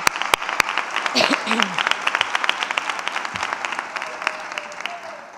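Applause breaks out at a town fair proclamation during a live speech event, a crowd clapping steadily and thinning out gradually, with a couple of sharp knocks at the start and a voice briefly heard over it.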